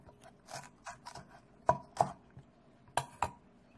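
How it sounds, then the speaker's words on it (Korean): A knife cuts gimbap ingredients into long strips on a board, giving a series of crisp, close taps, about ten in a loose rhythm with the last few louder and sharper. "여러분께서는 이렇게 길게 이렇게 썰어주세요"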